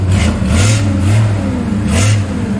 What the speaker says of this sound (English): Just give it a little bit of throttle there.